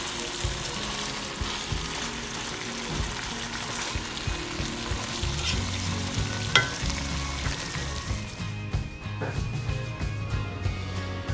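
Beef for Saudi kabsa sizzles and fries steadily in a hot pot, browning as it is turned, with occasional stirring clatter and a low background hum throughout.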